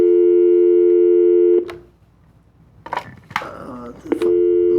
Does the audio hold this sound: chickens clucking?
no